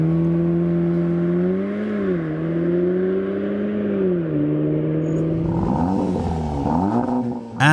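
Standard sports exhaust on a Cupra Ateca revving: a steady, loud engine drone that rises and falls in pitch through several swells, with a brief sharper blip near the end, heard close up and alone.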